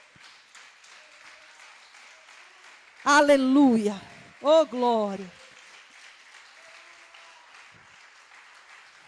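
A church congregation stands and applauds, a soft, steady patter of clapping in the background while a voice calls out over it.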